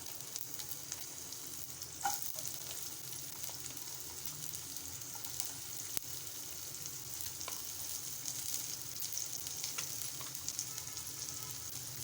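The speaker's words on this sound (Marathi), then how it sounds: "दोन चिमूट हिंग घालत आहे बारीक चिरून घेतलेला कांदा घालत आहे" Asafoetida and finely chopped onion fry in a pan with a steady, close sizzle that continues for the whole stretch. A few faint clicks and stirring touches rise above it, and no one speaks.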